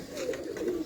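Pigeons coo in a short, close, low throaty burst with no talk over it.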